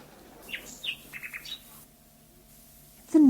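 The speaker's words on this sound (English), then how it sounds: "The nightingale sang so sweetly that tears came into the emperor's eyes" A nightingale singing: a few short, bright chirps and trills in a quick run, clear against a quiet background, followed by a brief louder call.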